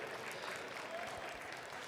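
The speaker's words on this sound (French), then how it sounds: "Merci pour les applaudissements." A crowd at the Salon de l'Agriculture 2022 in Paris gives dense, continuous applause after an Angora goat and mohair presentation, a brief steady burst of many hands clapping at once.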